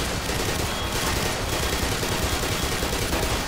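Dense, continuous automatic gunfire from a weapon in the video game Black Mesa, a steady loud rattle of rapid shots filling the whole stretch with no pauses.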